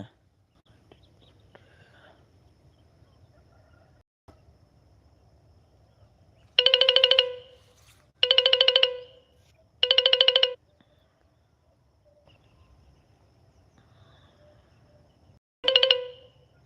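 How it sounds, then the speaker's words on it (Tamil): Incoming-call ringtone on a phone during a farming livestream: three evenly spaced electronic ringing bursts close together, then a fourth after a pause, each clear and loud over a faint low background hum. "நான் லைவ் போடும்போது மட்டும்தான் ஃபோன் கால் வந்துகிட்டே இருக்கும்"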